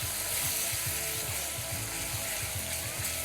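Chopped onion and garlic sizzle in a pan with pancetta and olive oil, a steady close frying hiss with a faint rhythmic mechanical pulse running underneath, no voices.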